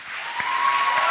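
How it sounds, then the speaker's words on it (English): A round of applause breaks out at an entrepreneurship competition event, steady, dense clapping that builds slightly and holds at a moderate level throughout, with no voices over it. "Excellent job, round of applause."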